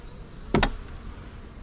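A honeybee buzzes briefly and close by during a beehive inspection of a weak hive, a short sharp double burst of wing noise over a quiet background.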